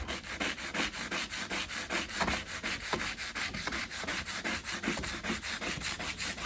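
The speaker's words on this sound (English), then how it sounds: "So I'll use a whole sponge on this door and sand it for about" Rhythmic sanding of a wooden door with a sanding sponge, steady back-and-forth rubbing strokes repeating quickly and evenly throughout, close and moderately loud.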